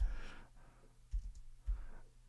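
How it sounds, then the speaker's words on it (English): Keyboard typing close to a microphone: a few soft clicking keystrokes, with sharper bursts at intervals over a low background hum. "Typing around a microphone here."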